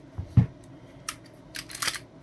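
Sharp metallic clicks and clacks of an FNX-45 Tactical pistol being cleared, a solid thunk followed by several crisp snaps of the slide being racked, close up.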